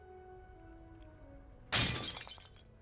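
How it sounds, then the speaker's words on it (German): A ceramic antique vase shatters in the Harry Potter Chamber of Secrets video game: one loud, sudden crash with a scattering tail of fragments after a quiet ambient game backdrop. "Harry Potter und eine zerbrochene, unersetzliche antike Vase"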